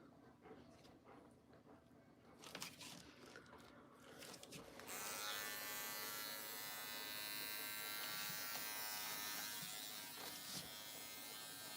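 Electric clippers shaving a head: after a few soft knocks and handling sounds, the close, loud buzz switches on and runs steadily to the end, with a brief voice at the start.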